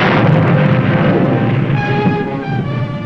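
A large ammunition dump explodes on shore after rapid fire from a World War II submarine's deck gun, a loud, continuous, rumbling blast roar that holds steady for about three seconds with no talk.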